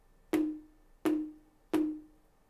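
Tom 1 of the preset 808 electronic drum kit is struck three times at an even pace, each hit a quick attack followed by a clean, decaying tuned boom, with no voices.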